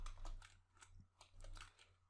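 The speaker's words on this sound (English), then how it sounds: "and now if I just type here" Light keystrokes on a computer keyboard tap out a short burst of typing during Node web-scraping work, quiet and close over a steady low electrical hum.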